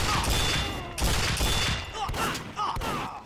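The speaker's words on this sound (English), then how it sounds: "Yeah, you got a machine gun." In Team Fortress 2 a machine gun fires in loud, rapid bursts, three or four rattling volleys separated by brief gaps, close and harsh.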